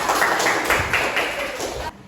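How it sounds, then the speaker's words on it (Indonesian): A classroom of students claps for a classmate in a brief, dense burst of hands. It is close and fairly loud, then stops abruptly. "Tepuk tangan untuk Rizkia"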